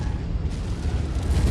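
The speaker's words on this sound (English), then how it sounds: "Reactor explosion imminent." In the MechWarrior 5 video game, a reactor explosion gives a sustained, rumbling low boom that swells and rolls on for over a second, loud and close, with no speech.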